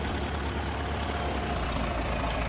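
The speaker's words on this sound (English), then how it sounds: "Good old tractor." A parked John Deere tractor idles with a steady, low diesel rumble close by, even and unbroken throughout, with no one speaking.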